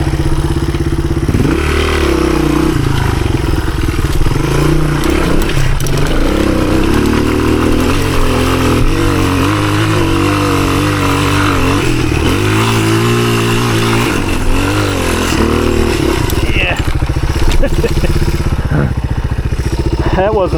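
A 1983 Honda XR200R dirt bike attempts a big hill climb in second gear, its loud, close engine revving and bogging through constant throttle changes, with clatter and thumps from rough terrain throughout.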